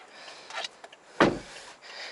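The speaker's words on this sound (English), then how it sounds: "then you slide in, and then you can close the door." The door of a 2019 BMW i8 Roadster shuts with a single sharp thump from close by, following faint soft shuffling and sliding sounds.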